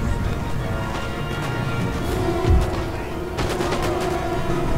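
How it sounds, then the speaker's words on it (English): Musket volleys crackle through an Empire: Total War land battle, with dense overlapping gunfire, one heavier thump and a renewed burst of shots near the end, set against a steady battle din. "With the maximum number of guys shooting at them."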